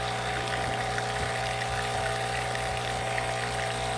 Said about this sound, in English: get the hot water from the hot water faucet